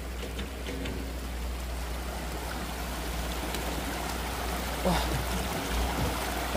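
A stream flows along a soft, muddy bank on the way up toward its source above Làng Nủ, making a steady, continuous rush of water close by that runs throughout without a break.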